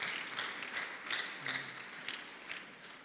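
A church congregation claps in praise. The claps come as faint, scattered bursts in a loose rhythm, rising and falling, with a brief hum of voices underneath.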